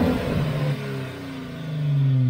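The Vector truck's engine revs hard while backing up off-road, a loud droning rev that dips slightly, then climbs again.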